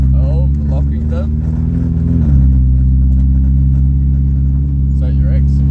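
A rebuilt Subaru engine drones loudly and steadily as the car drives up the road, its pitch dipping once partway through, with people talking over it.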